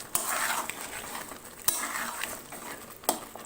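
Chicken coated in sour curd being stirred in a pan over low heat, a soft steady hiss broken by three sharp clinks of a spoon against the metal at wide intervals.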